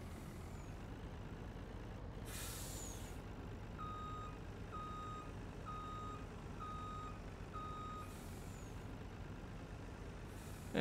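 Truck reversing in Farming Simulator 20, with a steady series of about five evenly spaced electronic reversing beeps over a constant engine rumble and two short hissing bursts like air brakes.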